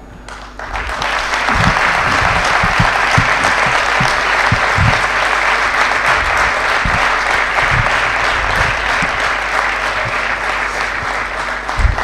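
Loud, sustained audience applause after a Hindustani classical slide guitar concert of Raag Bhairavi, a dense wash of clapping swelling in and holding steady for about twelve seconds.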